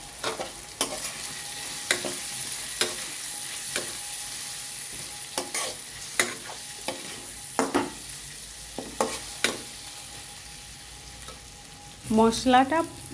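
Spice paste masala fries in a pan with a steady hiss, broken by regular scraping strokes of a spoon, and a short voice near the end.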